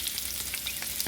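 Chopped onion fries in a pan for grasshopper tacos, a close, steady sizzle with faint clicks of stirring running throughout.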